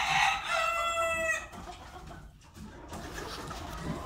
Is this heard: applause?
no